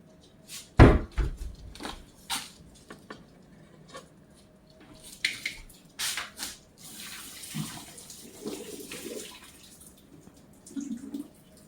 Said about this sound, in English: Why don't you pour them in the colander again just to make sure you got all the water off.